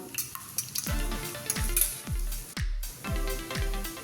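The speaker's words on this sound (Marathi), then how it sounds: "तिन्ही अंडी आपण फोडून घेतलेली आहे आता ही आपण चांगली पेटून घेऊया" Three eggs beaten in a bowl: a brisk run of whisking, with rhythmic strokes knocking and ringing against the bowl's side about twice a second, interrupted by a short pause partway through.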